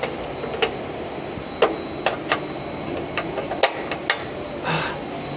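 Hand-pumping hydraulic pressure to raise an A320 CFM56 fan cowl gives sharp metallic clicks at an uneven pace over a steady hangar hum, ending in a brief hiss.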